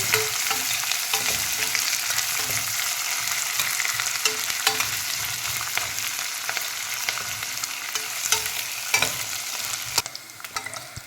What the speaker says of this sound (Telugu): ఆనియన్స్ బాగా మగ్గనిద్దాం కొంచెం రెడ్గా అయ్యే వరకు